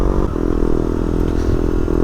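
Steady motorcycle engine drone while riding, loud and close, with a low rumbling hum and a slight shift in pitch partway through.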